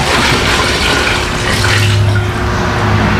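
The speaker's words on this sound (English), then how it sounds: "This makes 8 gallons of water added to the whole mix at this point." Water gushes steadily into a tub of rust remover mix, a loud continuous splashing and rushing pour heard close up, with no talk.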